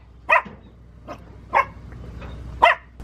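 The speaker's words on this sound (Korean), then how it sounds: "엄청 쬐끄만한 강아지." A very small dog gives a few sharp, high yips close by, three stronger barks spaced about a second apart with softer whimpers between, over a quiet background.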